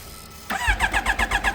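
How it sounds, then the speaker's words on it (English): A supercharged Kawasaki Ninja H2 motorcycle fires up from a cold start: a sudden loud catch, then a close, throbbing exhaust burbling in steady rapid pulses. "Let's send you guys off with an exhaust note"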